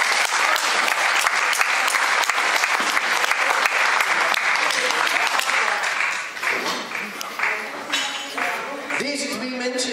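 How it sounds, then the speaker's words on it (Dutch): Loud, dense applause from a seated audience at a Christmas show, sustained for several seconds before thinning slightly toward the end, with a voice faintly audible beneath. "En daarom ook een luide tafelapplaus voor Johnny Nering."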